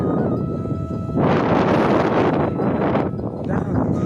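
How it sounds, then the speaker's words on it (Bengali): Strong storm wind blowing across a rain-soaked village, loud rushing gusts buffeting the microphone and swelling and easing in waves from start to finish. "হাওয়া দিচ্ছে প্রচণ্ড হাওয়া দিচ্ছে"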